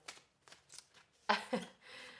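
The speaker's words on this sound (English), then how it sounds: "I'm just shuffling the cards." Brief rustling flicks of tarot cards being shuffled, a few light riffles and then two sharper snaps, close and quiet.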